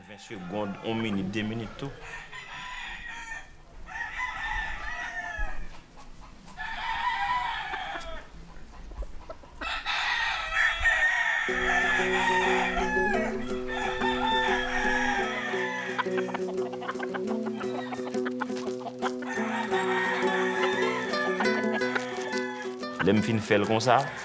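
Several fighting roosters crow repeatedly, loud and close, long drawn-out calls with clucking between them while someone talks over parts, in Haiti.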